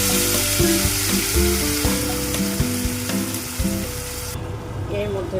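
Spice masala hits hot oil tempered with cloves and cardamom, setting off a loud, dense sizzle with stirring knocks; the bright hiss drops away abruptly near the end, leaving a softer background.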